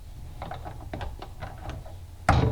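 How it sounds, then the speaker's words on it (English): An old-style Kreg clamp ratchets and clicks in a quick series of small mechanical ticks, then snaps shut on two wooden boards with a sharp, loud clack. "Throw the clamp. This is an old style of Craig clamp."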